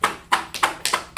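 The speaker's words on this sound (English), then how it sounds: "Let's clap it up for class" A classroom group of troopers clapping hands together in about five loud, separate bursts of applause, each sharp onset fading quickly before the next.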